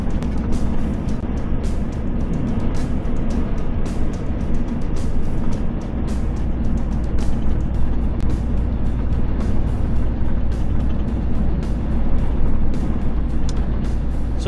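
A vehicle rolls along a road on the way toward Lyon, giving a steady, loud broadband rumble of engine and tyre noise with no break throughout.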